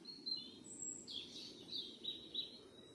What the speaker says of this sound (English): It's just me, the forest and the birdsong.